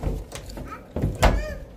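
A door shuts indoors with a solid thunk, preceded by a softer bump and followed by faint rattling, while people talk nearby.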